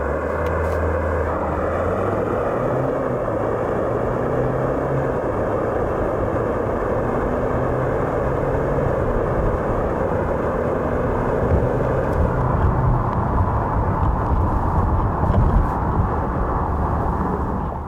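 A Hyundai Palisade Calligraphy with a 2.2 liter diesel and all-wheel drive accelerates hard, its engine a loud, steady drone that rises slowly in pitch beneath heavy road and wind roar, continuing without pause.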